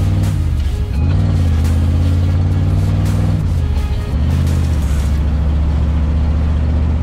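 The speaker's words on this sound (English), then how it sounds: "this engine actually has really bad exhaust manifold leak, so you'll hear a bunch of ticking under load" A 1979 Pontiac Trans Am with a bad exhaust manifold leak idles loud and close, its deep steady engine drone dipping briefly twice as the revs change. Under load the leak makes a ticking.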